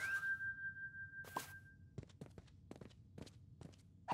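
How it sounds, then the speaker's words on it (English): Footsteps thud at an irregular walking pace, close and fairly soft, following a short whistle-like tone at the start. "It's the sound of our footsteps, Zeke."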